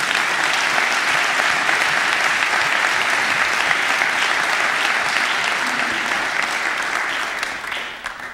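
Audience applause welcoming Dr. John Townsend to a campus seminary lecture, steady and loud throughout, tapering slightly at the end with no talk over it.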